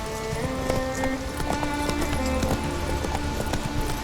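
Roach, a horse in The Witcher 3, gallops steadily with rapid, close hoofbeats at a constant pace, loud and continuous, with no talk over it.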